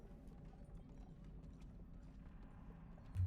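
Horse hooves clip-clopping steadily at a walk in a Wild West roleplay game, a quiet, even rhythm throughout with a louder thump right at the end.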